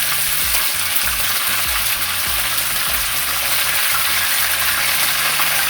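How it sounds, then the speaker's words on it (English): Chicken pieces frying on a stovetop for a fricassee, a dense, loud and steady sizzle with faint bubbling underneath and no talk. "the second batch might be frying faster"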